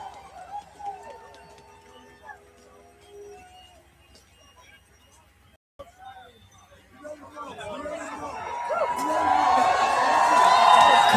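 Large crowd of protesters at a march in Minneapolis, quiet scattered voices and movement at first, then a broad swell of crowd noise and cheering building loudly toward the end.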